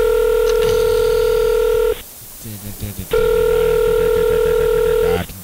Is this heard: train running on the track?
no